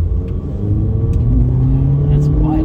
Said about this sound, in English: here's where we do our traffic light Grand Prix acceleration test